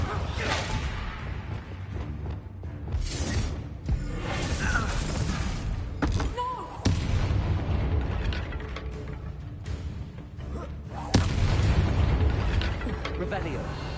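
Incendio fire spell from Hogwarts Legacy, whooshing fiery bursts and explosive booms amid continuous game noise, with sudden loud hits partway through and near the end; a voice talks over parts of it.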